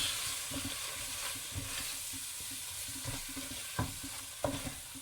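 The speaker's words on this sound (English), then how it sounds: "drop in all your spices and then you just give it a nice good mix. Roast it up a bit" Spices roasting in a pan for chicken curry crackle and sizzle while being mixed, with a soft continuous hiss, scattered stirring clicks and a couple of sharper knocks near the end. It sounds close, with no speech.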